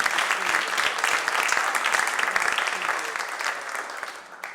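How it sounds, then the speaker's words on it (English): Audience applause at a gala auction, a steady wash of many hands clapping through the room that tapers off slightly toward the end. "Ladies and gentlemen, a big round of applause for everyone who has raised their bid card tonight"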